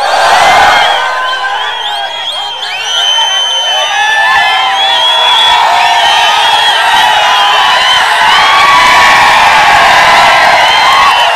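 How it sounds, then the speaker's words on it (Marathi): Large crowd at an outdoor election campaign rally cheers and whoops loudly and continuously, with shouts and whistles rising and falling throughout, no clear speech. "नुसता जल्लोष नकोय"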